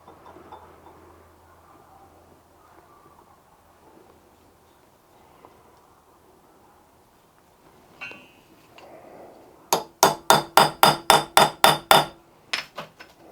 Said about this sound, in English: I've got a hammer at the ready